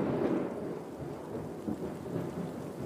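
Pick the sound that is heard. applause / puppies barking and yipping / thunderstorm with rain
thunderstorm with rain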